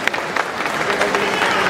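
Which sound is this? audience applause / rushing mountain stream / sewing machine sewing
audience applause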